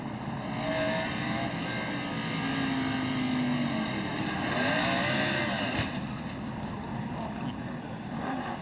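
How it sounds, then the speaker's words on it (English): A 1996 NASCAR truck revving hard as it spins around at Louisville, engine pitch swinging up and down amid broad crowd and track noise, loud and sustained with no talk. "You heard him get on the gas just as the thing spun around, trying to spin a complete 360."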